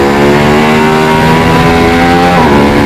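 A Yamaha R1M sport motorcycle revs loud and close on a race track, a sustained high engine whine with steady harmonics throughout, with no talk.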